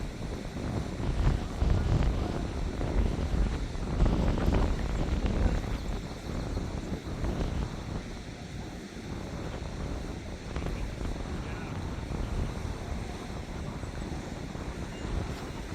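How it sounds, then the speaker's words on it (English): Wind gusts across the microphone on a waterfront near a railroad bridge, a broad rushing roar that swells strongly early on, then eases to a steadier, softer blow with faint water sounds beneath. "It's a little bit windy this morning"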